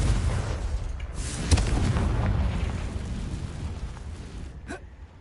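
Confringo fire spell from Hogwarts Legacy on PS5, a rumbling, booming blast with crackling fire that swells, holds, then fades out, ending in a short sharp burst.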